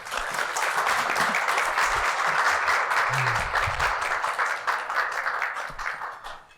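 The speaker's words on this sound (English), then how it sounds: "Let's give them both a round of applause as they take the stage." Steady, loud audience applause fills a conference hall at a city planning department fireside chat event as two guests take the stage, dense clapping throughout that tapers off at the end.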